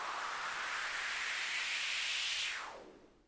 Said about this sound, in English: it's just white noise with a band pass